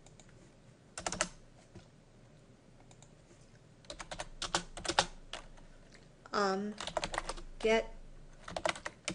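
Computer keyboard typing in quick clustered bursts of key clicks with short pauses, close and fairly clear, while someone speaks briefly now and then.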